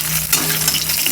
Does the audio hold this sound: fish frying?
yes